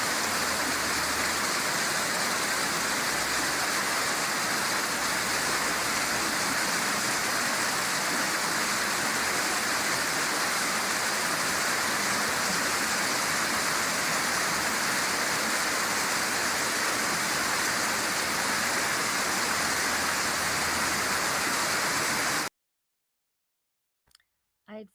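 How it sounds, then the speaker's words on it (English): Loud rushing water at the Stone Arch Bridge, a dense, constant roar filling the whole span before cutting off abruptly to near silence. "I had forgotten how loud that water was"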